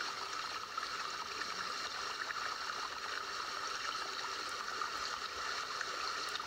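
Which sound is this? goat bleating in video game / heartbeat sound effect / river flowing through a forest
river flowing through a forest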